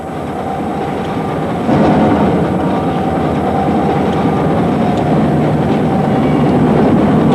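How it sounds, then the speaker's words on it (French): A long freight train of bauxite ore wagons rolls past on rails, a loud continuous rumble and roar that swells slightly and keeps going without a break. "Chaque jour, 5 ou 6 convois de 100 à 120 wagons chargés de bauxite brute partent"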